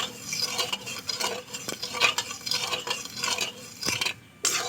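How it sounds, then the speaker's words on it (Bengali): A spatula stirs sugar around a pan while making Bengali besan laddu, producing close, steady scraping and clinking strokes in an uneven rhythm, with a brief pause before the last few stirs and no talk. "এবার চিনিটাকে আস্তে আস্তে করে খুন্তির সাহায্যে নেড়ে নেব"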